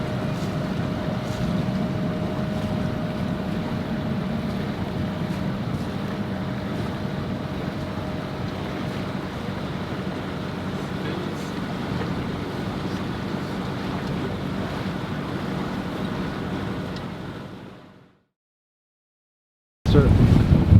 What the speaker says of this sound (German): Wir haben einen richtig geilen Segelwind.